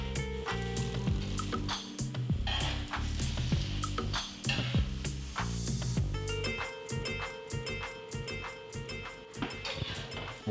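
Beef steak searing in a pan after a flip, a close steady sizzle broken by clinks and scrapes of utensils on the pan, with loud music playing throughout.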